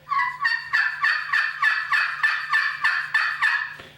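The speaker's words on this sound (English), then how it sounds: "It's got a little rasp to it, especially with the Osage Orange striker." A glass-surfaced wood turkey pot call worked with an Osage Orange striker gives a run of roughly ten raspy hen yelps in a regular, even cadence, close and alone.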